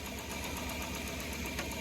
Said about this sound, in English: It's idling a little rough.